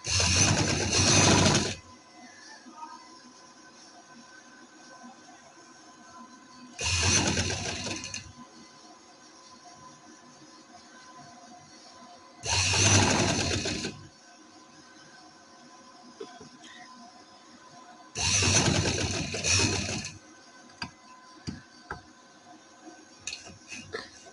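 Sewing machine stitching a neck design on fabric, four short bursts of rapid mechanical whirring separated by quiet pauses, close and clear, with no one talking.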